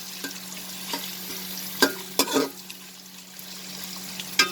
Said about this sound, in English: So let's fry the onion till it changes its color slightly.